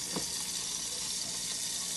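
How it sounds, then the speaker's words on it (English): Garlic juice sizzling in a hot pan, a steady dense hiss that holds without pause across the whole short stretch. "You hear it sizzling?"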